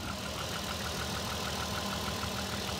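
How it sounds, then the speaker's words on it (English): A Nissan R32 engine idles with a steady, continuous drone, a faint regular ticking knock from a worn rod repeating evenly beneath the hum, recorded close with no talk. "It's that knocking sound."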